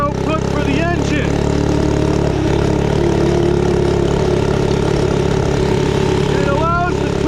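A 79cc minibike engine fitted with a torque converter runs steadily and loudly throughout, its mid-low drone holding constant with a few faint chirps above, close to the recorder and with no talk over it.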